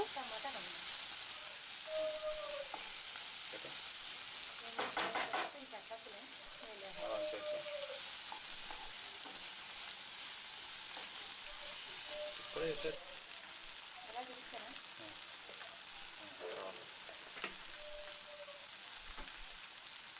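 Brinjal and tomato curry frying in a pan, a soft steady sizzle with occasional ladle scrapes and clinks against the vessel, fairly faint and close.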